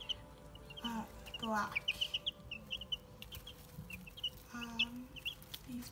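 Silkie and green layer chicks peep and cluck softly indoors, a scatter of high chirps and low clucks coming in irregular bursts at low volume.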